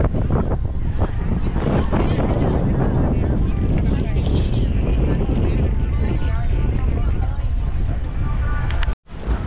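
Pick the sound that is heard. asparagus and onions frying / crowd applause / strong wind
strong wind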